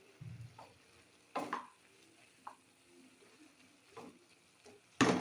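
A spoon stirs bottle gourd and shrimp in a pan, making quiet scrapes and taps at irregular intervals over a soft background sizzle, ending with one sharper, louder scrape.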